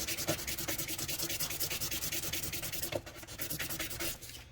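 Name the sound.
sanding sharp edges of a cut key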